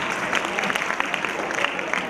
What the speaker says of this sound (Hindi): जोरदार तालियां इनके असर पर लगाएंगे